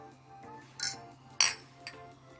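Glasses of spiced Christmas sangria clink together in a toast. There are three sharp, bright chinks in quick succession against a quiet room background.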